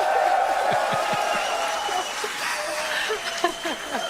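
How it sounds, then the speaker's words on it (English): Distant cheering and applause from a crowd watching a SpaceX Starship launch, a broad soft wash of voices under scattered claps and occasional closer whoops, fairly faint throughout. "Look, the cheering."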